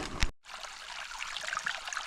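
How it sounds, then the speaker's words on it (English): Cold water trickling in a mountain stream along a backpacking trail, a soft, close dribble with small bright splashes after a brief knock at the start. "Getting water to filter from the stream."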